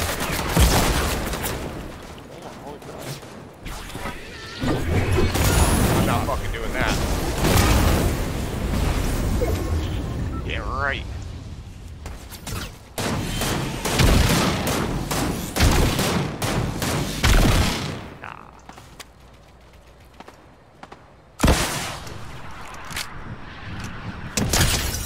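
Heavy, near-continuous gunfire and explosive booms in the Fortnite video game, loud and dense for most of the stretch, with brief lulls and renewed bursts toward the end.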